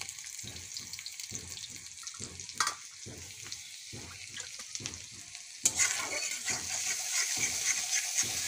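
Masala spices frying in a pan with a steady rhythm of spatula scrapes and stirring over a soft sizzle, which suddenly swells into a louder, fuller hiss partway through and stays strong to the end.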